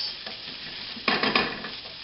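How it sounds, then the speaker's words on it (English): Ham stir-fried for fried rice in a hot wok or fry pan crackles and sizzles steadily, with a louder burst of scraping and tossing midway, close and with no talking. "you've got to keep that pan moving around, or keep that food moving around in that fry pan, or your wok"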